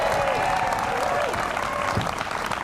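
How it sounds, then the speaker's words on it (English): Sustained applause and cheering from a crowd at a Cardiff UCU strike rally, steady and fairly loud throughout with no speech over it. "let's give a big round of applause"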